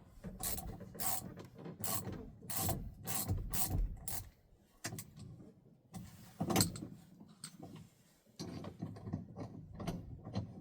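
A hand ratchet tightens bolts during work on a vehicle, giving close, rhythmic bursts of fast clicking with brief pauses between strokes.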